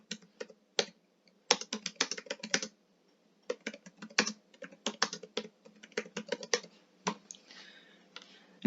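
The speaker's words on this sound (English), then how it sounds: "And then you can type in your" Someone types an email message on a computer keyboard, with quick bursts of close, crisp key clicks separated by short pauses and no voice.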